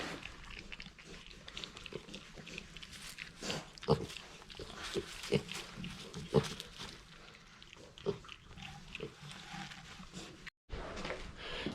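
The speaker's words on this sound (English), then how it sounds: "Here's that little bitty pig." Small piglet on a farm near a goat barn, giving a series of short grunts and squeals at irregular intervals, fairly close, over low background noise.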